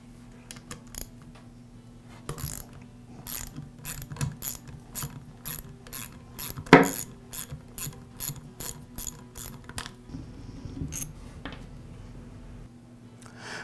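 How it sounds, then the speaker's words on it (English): A hand ratchet loosens the head bolts on an air compressor pump, its pawl clicking in quick repeated bursts of strokes with short pauses between, close and fairly quiet, with one sharper clunk midway. "the next step is to remove the head bolts"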